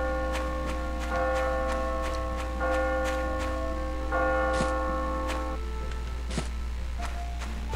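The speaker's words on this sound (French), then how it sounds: "Ah, il est midi. Les cloches sonnent." Church bells ring out at noon, with repeated clanging strikes and long humming overtones, moderately distant and steady with no voices.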